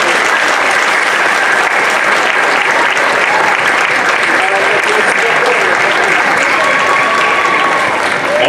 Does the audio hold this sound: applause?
yes